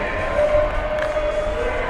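Loud, sustained cheering from a packed ballpark crowd during a baseball game, a thick roar of many voices with a brief swell near the middle.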